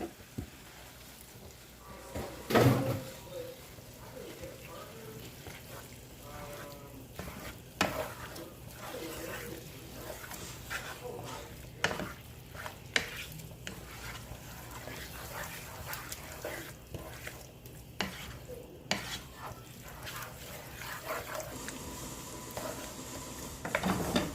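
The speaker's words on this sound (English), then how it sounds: "We're going to get the ground beef. We're going to stir that in." Ground beef is stirred in a pot for Liberian cabbage and rice. Faint, irregular scraping and clatter recur over a soft background sizzle, with occasional sharper knocks.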